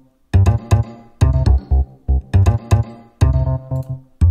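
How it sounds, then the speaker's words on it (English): Bass run through a noise gate set for rhythmic gating, notes chopped into short, punchy bursts with abrupt silences between them, forming a choppy stop-start pattern over a few seconds. "instead the bass then becomes the sort of gated rhythmical element"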